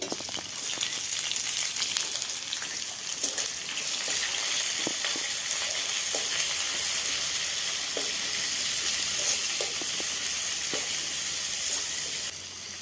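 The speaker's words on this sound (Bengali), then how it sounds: "ফোড়ন রেডি হয়ে গেছে, এবারে পেঁয়াজটা দিয়ে দিচ্ছি" Onions fry in a spice tempering in a pan for a Bengali dal makhani, giving a continuous loud sizzle with occasional stirring clicks and scrapes, and no talk over it.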